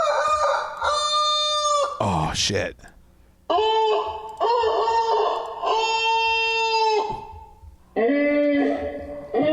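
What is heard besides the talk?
rooster crowing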